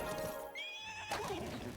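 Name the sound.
horse neighing in video game Heroes of Might and Magic: Olden Era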